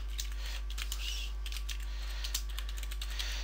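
Steady, quiet typing on a computer keyboard, with light, evenly spaced key clicks running throughout and no voices over them.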